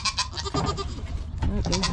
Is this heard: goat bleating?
yes